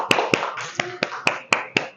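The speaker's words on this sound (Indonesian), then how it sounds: "Tepuk tangan dulu untuk kita semua." A small group of people clapping in unison in a classroom, seven sharp, evenly spaced claps about a quarter second apart, close and loud.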